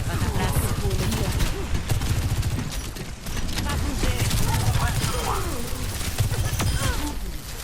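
Rapid bursts of gunfire and blasts, including a grenade, from a fight over a capture point in the video game Overwatch 2, dense and continuous with a voice talking over the action.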